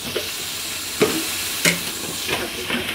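Turmeric powder going into a pan of sizzling spice masala, a constant close hiss of frying with a few spoon taps and scrapes as it is stirred, with no voices.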